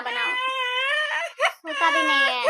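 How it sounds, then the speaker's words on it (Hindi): An infant boy wails in sustained, loud sobbing cries at close range, with a brief gasping break before the crying resumes, in a home kitchen. "देखिए मेरा बच्चा रो रहा है"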